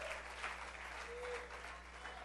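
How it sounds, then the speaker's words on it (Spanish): A church congregation claps in a brief, even burst of applause, moderately loud and sustained for a couple of seconds. "Dele fuertes ofrendas de palmas a Jesús"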